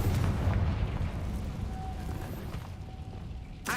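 Bombarda and Confringo spell explosions in the video game Hogwarts Legacy rumble as heavy, booming blasts that blend into a sustained low roar, ending with a sharp burst.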